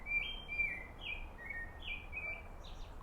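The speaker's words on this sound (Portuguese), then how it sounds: "Olha que lindo esse canto dos pássaros." Small birds sing in a garden, a series of bright high whistled chirps in quick phrases over a soft steady outdoor hiss, fairly close and clear, with no talking.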